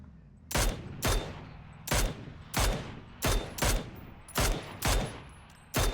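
Loud gunshots in the video game PUBG ring out in a rough rhythm, about ten sharp bangs, some in quick pairs, over a low background hum.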